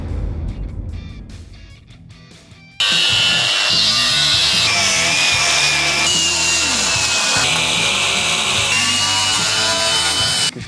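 A power tool cuts into the metal body of a DS3 car, kicking in after a few seconds of quieter clattering and then screeching loudly and continuously up close with a shifting high whine.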